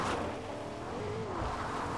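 A car driven in Fortnite Chapter 3 rumbles steadily with a low engine drone and a brief rising whine near the middle, close and alone without talk.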